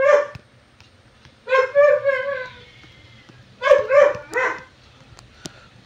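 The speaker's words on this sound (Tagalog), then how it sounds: "Pasensya na kayo, maingay sa aso." A dog barks in two bursts of several sharp yips and barks, fairly close and loud, with quiet gaps between them.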